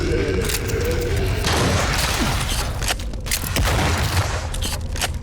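Slug-firing shotgun in Wrath: Aeon of Ruin, heavy booming blasts and mechanical clatter filling the clip densely and loudly, with a voice faintly underneath.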